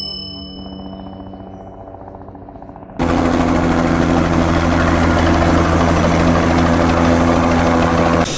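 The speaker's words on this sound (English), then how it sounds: "we transferred to the airport by helicopter." A quiet interior with faint tones gives way suddenly to the loud, steady whine and rotor thrum of a helicopter flying toward an airport in Guatemala, continuous and close.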